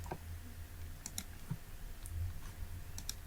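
A handful of soft, sharp computer mouse clicks sound in a quiet room, spaced irregularly with short pauses between them.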